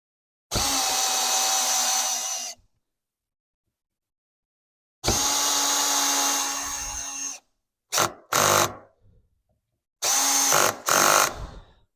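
A power drill drives a screw into an antique ladder stool, whirring loudly in four separate bursts: two long runs, then short stuttering pulses and a final double burst, with silence between.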